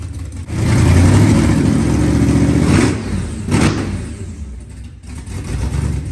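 A supercharged 1956 Chevy engine idles steadily and loudly close by, with a couple of brief surges in revs as the idle speed is set.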